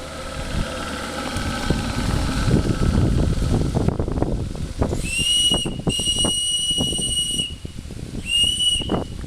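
The steam whistle of the steamboat Albatros, a coaster, blows loud, shrill blasts, one long and then a shorter one, over rumbling engine and wind noise.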